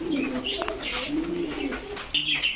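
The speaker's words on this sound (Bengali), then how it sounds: "রিয়াদ ভাই এটা কি কবুতর ভাই ওমান টেডি" Low, throaty coos of Oman teddy pigeons roll on steadily for a couple of seconds, several birds overlapping, with a few faint chirps mixed in.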